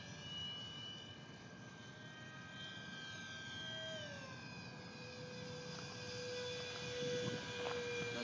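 An F-15 model airplane flies over an airfield, giving a faint, distant, steady engine whine whose pitch slowly shifts as it passes, with no one talking.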